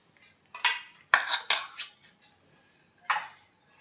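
Finely chopped, seeded tomato is added to a dish for masala bread toast, marked by a few close, sharp clinks and scrapes of a utensil against the bowl in short bursts.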